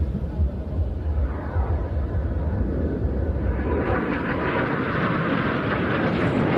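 The Red Arrows synchro pair jets fly at an evening air show in Ayr, a low, steady engine rumble at moderate distance that slowly swells and brightens toward the end as the aircraft draw nearer.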